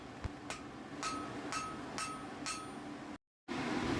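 Blacksmith hammering the prongs of a hand-forged garden fork into shape, with about six evenly spaced sharp metallic strikes ringing out roughly every half second, then a brief cut before steady background noise resumes.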